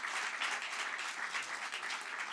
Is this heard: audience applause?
yes